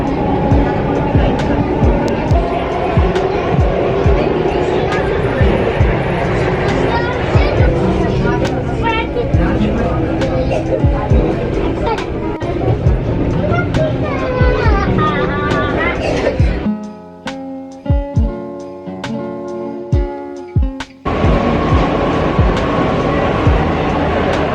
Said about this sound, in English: The metro station right now, and it is so hot.